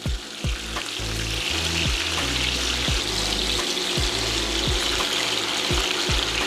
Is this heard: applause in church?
no